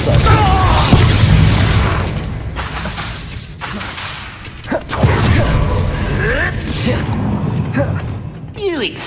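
Depulso force spell cast in Hogwarts Legacy, a booming magical blast with whooshes, crashes and pops amid busy game combat noise, while a voice speaks over parts of it.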